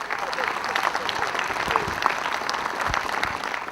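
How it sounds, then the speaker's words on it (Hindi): Audience applause welcoming guests onto the stage at a Hindi-language event, dense continuous clapping from a crowd that stays even and lively throughout. "जोरदार तालियों से मंच पर उपस्थित सभी मेहमानों का हम स्वागत करेंगे"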